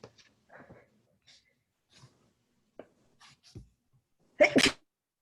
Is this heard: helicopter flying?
no